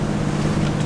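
A steady, droning sailboat engine motoring at about 2,000 to 2,500 revs hums continuously with wind rushing past the microphone, loud and unbroken throughout.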